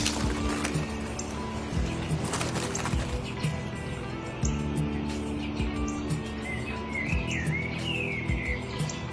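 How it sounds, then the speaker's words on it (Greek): A sparrow chirps in short, bright tweets, including one rising call, against steady mechanical clatter and background hum. "Ένα σπουργίτη."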